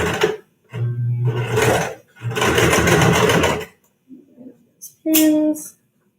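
A sewing machine stitches elastic into a fabric face mask in a few separate loud bursts of rapid whirring, each roughly a second long, with short pauses between and brief talk in the gaps.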